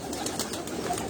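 A pure Sialkoti pearl pigeon on a rooftop gives a brief, low, close-up coo.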